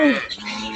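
A cow gives a single short moo, loud and close, its low drawn-out call falling away within a second as some background noise carries on.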